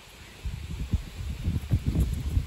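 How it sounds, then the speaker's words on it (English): Wind gusts buffet the microphone in low, uneven rumbles that build and fade over a few seconds, with no voices, outdoors in an open field. "it's pretty windy too"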